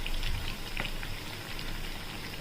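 Green moong dal fritters deep-fry in oil, a soft steady bubbling and crackle with a few brief pops, fairly faint and with no voices.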